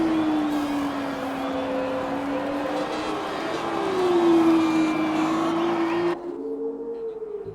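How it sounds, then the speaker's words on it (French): A Formula 2 race car engine holds a steady high drone that swells and shifts pitch as it passes, then cuts off abruptly, leaving faint background sound. "Elle fait un bruit différent, la voiture de Jet."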